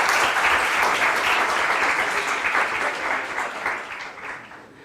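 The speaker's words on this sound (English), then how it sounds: "So everyone, please, big round of applause for Germán." An audience at a startup demo day applauds pitch presenter Germán. The clapping is loud and dense at first, then gradually thins and fades over about five seconds.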